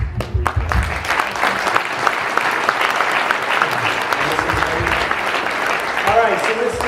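An audience at a motivational Sunday speech event breaks into sustained, dense applause that carries on loudly for several seconds, with a voice rising over it near the end.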